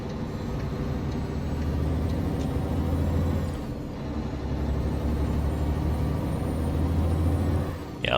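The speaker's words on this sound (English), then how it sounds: "I don't really like the Jake on this." Engine brake on a Mack R truck hauling a Fruehauf trailer in American Truck Simulator, a loud steady low diesel rumble that runs continuously, dipping briefly midway before resuming.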